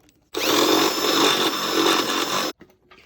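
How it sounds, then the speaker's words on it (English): A power drill whines steadily at close range for about two seconds, drilling a hole in the oil pan of a 300,000-mile EG Honda Civic hatchback, starting and stopping abruptly, with quiet before and after. "we are drilling the hole in the oil pan"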